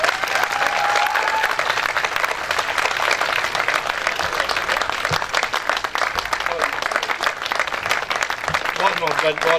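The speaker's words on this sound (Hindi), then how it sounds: "आप सब लोग भरपूर तालियों में तमाम तर इज़्ज़त व एहतराम के साथ स्टेज पर वेलकम कीजिए जनाब अमजद इस्लाम अमजद साहब को।" Sustained audience applause at a mushaira, a literary poetry gathering, as a poet is welcomed onto the stage: dense, continuous clapping from a large crowd that stays steady for the whole stretch, with faint voices mixed in.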